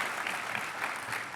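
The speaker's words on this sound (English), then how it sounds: "Big round of applause." A brief burst of steady audience clapping closes a panel discussion on space challenges and opportunities, an even wash of many hands with no talk over it.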